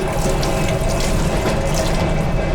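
Water gushes steadily from the wash tap in a Kazakh passenger train's toilet, a loud, even splashing stream running without pause, with no talking.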